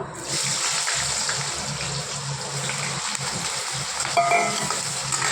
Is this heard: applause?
no